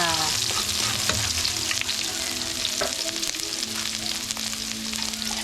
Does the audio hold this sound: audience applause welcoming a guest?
no